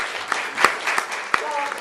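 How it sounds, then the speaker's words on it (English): An audience claps steadily, a crisp patter of many hands with a few louder individual claps, while a voice speaks briefly underneath near the end. "Let's clap for Sally."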